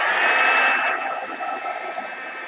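A heat tool heat-setting embossing ink on a faux metal keepsake box blows a steady, loud, fan-like whoosh that eases slightly in pitch and level partway through, with no talking.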